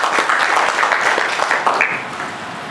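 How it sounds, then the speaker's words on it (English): Applause fills an award ceremony hall for a speaker, steady crowd clapping throughout at moderate loudness without talk. "Please give him another round of applause"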